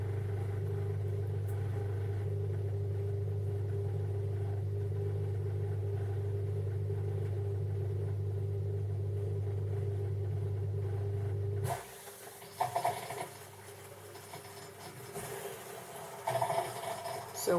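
A Klarstein 10028325 countertop dishwasher hums with a low steady drone for about twelve seconds, then shifts to softer rattling and water-like noise.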